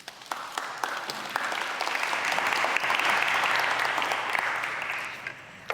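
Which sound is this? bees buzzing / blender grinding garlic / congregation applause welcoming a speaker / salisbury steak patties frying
congregation applause welcoming a speaker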